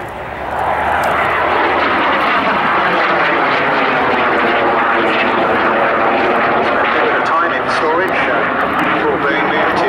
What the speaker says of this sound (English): Anyway, this aircraft was built in 1960.